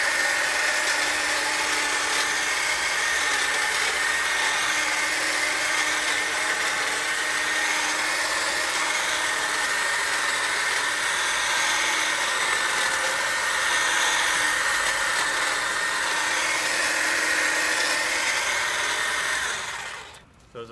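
DeWalt 20V Max DCHT820P1 cordless hedge trimmer running steadily, a constant bright buzzing whine held for about twenty seconds at moderate level, then cut off abruptly at the end; no talking.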